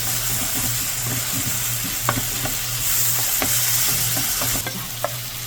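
Onion and green pepper stir-fried in a pan, a continuous sizzle with scattered scraping stir clicks and steady frying hiss throughout, no talk.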